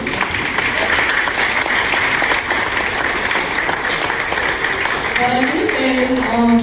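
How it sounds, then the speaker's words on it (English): Audience applause fills a room at an 80th birthday celebration, steady dense clapping throughout, with a voice starting to speak over it near the end. "So I give that a round of applause for him still working."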